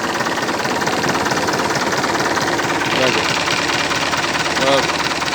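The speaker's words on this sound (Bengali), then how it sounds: "নতুন গাড়ির সাউন্ড সম্পর্কে আপনাদের কি বলবো।" A new car's engine runs at a steady idle nearby, a constant rumbling drone with someone talking over it.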